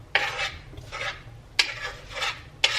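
A spoon scrapes and stirs strawberries into protein oatmeal in a cooking pot, making four or five close, rhythmic rasping strokes, each beginning with a light clink against the metal.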